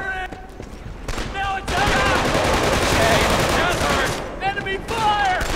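Sustained rapid gunfire from the Killzone 2 video game, a dense loud fusillade lasting several seconds with brief gaps, while voices speak over it.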